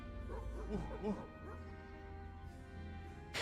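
A voice imitates dogs barking with a few quick woofs in The Da Vinci Code video game, soft yelping calls over a low hum, close and fairly quiet.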